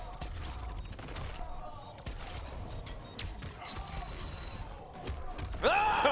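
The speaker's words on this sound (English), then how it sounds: "Smart bomb." Triborg's Cyrax-variation smart bomb attack in Mortal Kombat X, heard as busy fighting-game effects with bursts and mechanical clatter over a steady background, ending in a rising swept tone near the finish.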